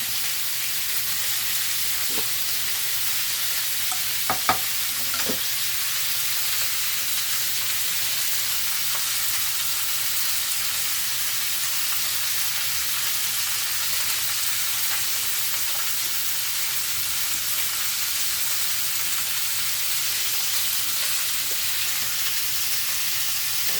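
Pork searing in a pan with sauerkraut gives a constant bright sizzle and hiss, steady and close throughout, with a couple of faint knocks and no talking.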